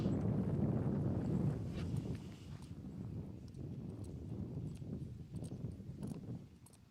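Hooves clop faintly on the ground in an uneven rhythm while gusty wind buffets the microphone throughout.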